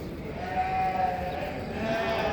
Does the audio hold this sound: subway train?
no